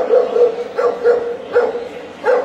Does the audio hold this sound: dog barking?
yes